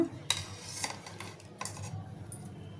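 Fish pieces being mixed with salt and chili powder in a bowl for a fish curry, heard as a few soft scraping and clinking stirs, close and quiet, with no talk.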